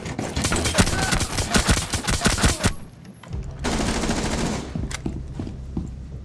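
Rapid automatic gunfire in Rainbow Six Siege, played as team deathmatch on the Oregon map: loud, dense bursts of shots for nearly three seconds, a short lull, then another sustained volley of firing.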